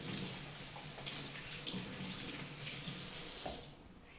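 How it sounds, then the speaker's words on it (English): Hands are washed under a running tap with citrus and cilantro soap, a steady hiss of water splashing into a sink that continues evenly and then eases off near the end, with no talk. "The first thing we're going to do is wash our hands"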